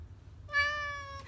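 A single cat meows once, clear and drawn out, close by over faint low background hum.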